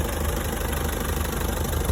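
A 2007 Tata Safari 2.2 diesel engine idling, a steady, even rumble with a low, continuous throb that stays constant throughout and has no voices over it.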